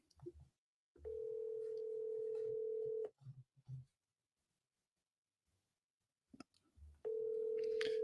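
A telephone line plays a steady dial tone during a redial, two sustained tone stretches of about two seconds each separated by short clicks and button presses, quiet and close with no talking.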